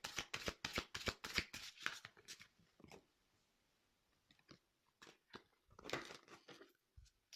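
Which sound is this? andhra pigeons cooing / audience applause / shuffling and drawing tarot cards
shuffling and drawing tarot cards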